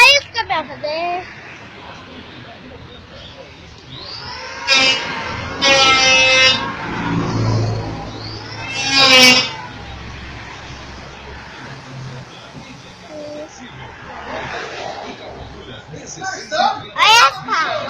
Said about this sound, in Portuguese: Olha os caminhões fazer!